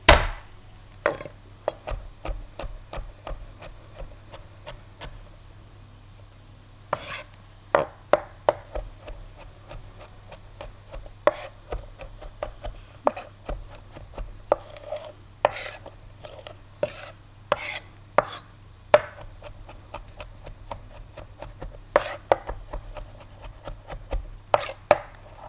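Garlic chopped with a knife on a board gives a long run of quick, crisp taps in uneven bursts, close by and fairly quiet.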